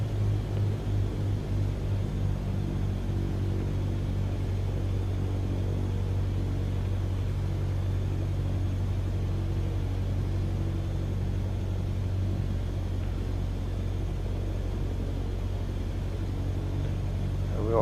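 Light aircraft engine with the throttle pulled back and carb heat on, a steady low droning hum with a constant tonal buzz holding at a loud, even level throughout, heard from inside the cockpit.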